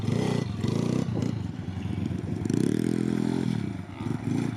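A dirt bike engine revs hard as the rider pops a wheelie on a motocross track, a loud, close, steady droning roar with rises and dips in pitch and some clattering mixed in.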